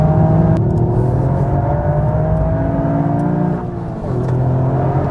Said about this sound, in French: un moteur qui fait un super bruit